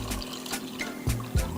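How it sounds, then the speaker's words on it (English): Water being poured into the reservoir of an antique Melitta single-cup coffee maker, a soft steady trickle with a couple of louder gurgling splashes near the end. "you fill whatever cup you're using with water, and you can just pour it right into the"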